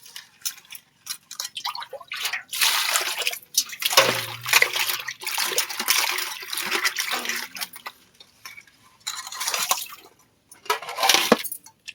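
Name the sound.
washing cut crabs in water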